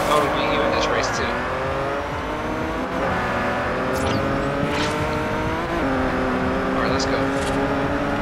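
Race cars in the Forza Horizon video game rev and accelerate off the starting line, a continuous loud engine roar with rising pitch and occasional tire squeal, while a person speaks briefly over it.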